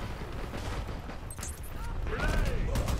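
Gunfire from a weapon in the online shooter Dirty Bomb, bursts of shots cracking through a dense, noisy game mix, with a voice talking over the action.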